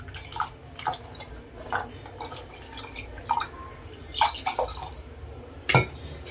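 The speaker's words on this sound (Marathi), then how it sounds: "सगळं पाणी घालून व्यवस्थित गाळून घ्यायचं" Mint sherbet strained with water at home, irregular drips and splashes of liquid falling through a strainer, close and moderately loud, with a louder splash near the end.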